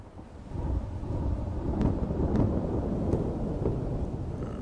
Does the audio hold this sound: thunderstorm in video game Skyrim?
yes